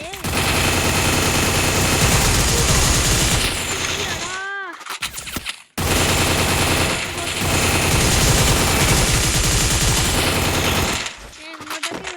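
Dense, rapid automatic fire from a G36 rifle in the Free Fire clash squad mode, loud and nearly continuous bursts with a short pause in the middle and another brief break near the end.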